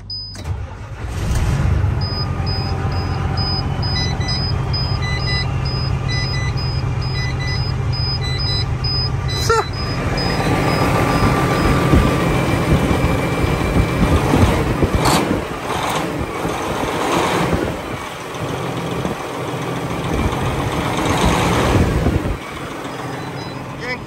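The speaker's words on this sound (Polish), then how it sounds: "Teraz zobaczymy, jak odpala prawdziwa maszyna po wymianie oleju" A car engine starting after an oil change, cranking briefly and then settling into a steady idle nearby, with intermittent beeps early on and a voice talking over the running motor.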